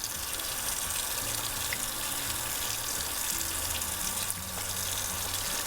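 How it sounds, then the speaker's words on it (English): Hands are rinsed under a running tap in a sink, a steady, close, broadband rush of water that continues throughout with no talking. "And then you're going to rinse them under the running water."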